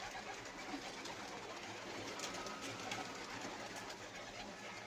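Pigeons coo softly at a loft, low throaty murmurs set against a constant faint background hiss, quiet and somewhat distant throughout the few seconds.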